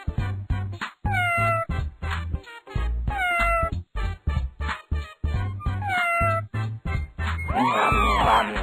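Kittens in a crude cartoon animation meow repeatedly in short, high, rising cries, clustered in quick bursts with brief pauses, close and loud with no talking.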